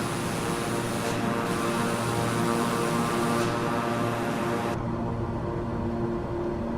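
King Air 350 propeller plane in Microsoft Flight Simulator 2020, a steady loud droning engine and propeller hum that runs without a break, its hiss easing near the end.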